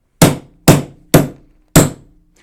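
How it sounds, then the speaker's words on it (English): A hammer raps a cutting tool through sheet metal in a disc cutter four times, each a sharp metallic strike with a brief ring-out, evenly spaced about half a second apart, close and loud. "just pick up my hammer and give it a few raps to cut through the metal"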